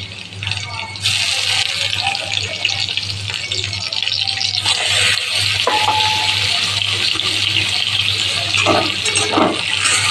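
Ridge gourd pieces frying in a pan for a rohu fish and vegetable curry, a steady loud hiss and sizzle running throughout with small clinks and stirring scrapes, over a constant low hum.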